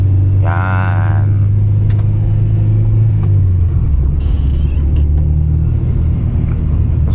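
Interior engine hum of a 2000 Honda Civic SiR driving through Quezon City on a rainy night, a steady low rumble with faint road noise, a brief rising whine near the start and light clicks, no talking.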